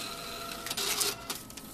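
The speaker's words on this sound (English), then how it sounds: "Back here you have a receipt printer that prints thermally onto thermal sensitive paper." Thermal receipt printer in an IBM point-of-sale terminal printing a receipt, a brief burst of soft buzzing and whirring feed noise with a couple of quick mechanical clicks, close and alone.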